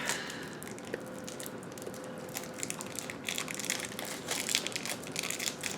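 Cheese sticks being peeled apart from their paper wrapper, a quiet continuous crinkling and crackling with small tearing bursts that grow slightly busier toward the end, heard alone up close.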